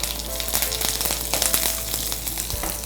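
Curry leaves hit hot oil already holding chana dal and crackle in a close, busy sizzle that holds steady for the few seconds, with no speech.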